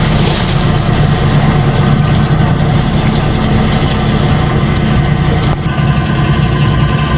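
Engine of a pile extractor machine pulling pipes at a bridge construction site on Samal Island, Davao, a loud steady diesel idle and rumble that drops slightly near the end, with no talk.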